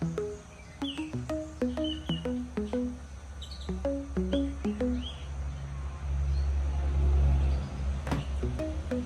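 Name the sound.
Common Myna bird calling, Sri Lanka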